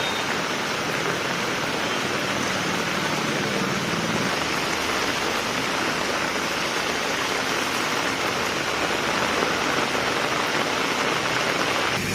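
Monsoon rain, starting as drizzle and turning heavy, falls steadily as a dense, even hiss that holds at the same level throughout with no voices.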